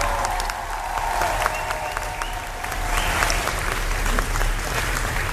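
A studio audience applauds a comedy troupe at a live talk show: a dense, steady wash of clapping that holds at an even level throughout, with a slight swell in the second half and no talk over it.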